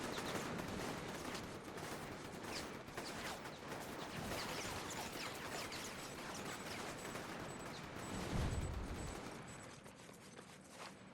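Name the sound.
gunfire in the video game Infamous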